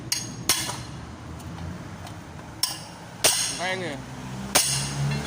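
A hammer strikes a Toyota Hilux ball joint several times at uneven intervals, sharp ringing metal clanks up close, with people talking between the blows.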